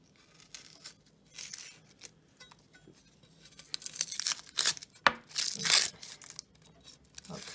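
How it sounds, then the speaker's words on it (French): Onion being peeled by hand for a ham and potato omelette, giving dry papery tearing and crinkling bursts in irregular clusters, growing louder and busier toward the end, close up with no talk. "On va éplucher l'oignon."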